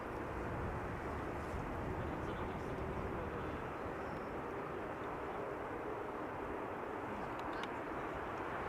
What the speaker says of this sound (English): Embraer 190 having returned from Adler